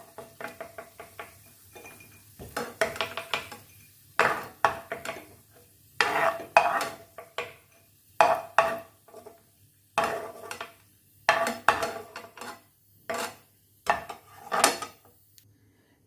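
Fried cashew nuts are scooped out of hot ghee in a pan with a metal spoon, making repeated clinks, scrapes and stirring clatter in irregular bursts separated by short pauses, with faint sizzling.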